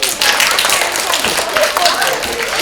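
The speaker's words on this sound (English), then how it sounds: "Everybody give them a big round of applause." An audience claps together for performers at an animal show, a dense steady roar of hands that holds at full strength throughout, with some voices mixed in.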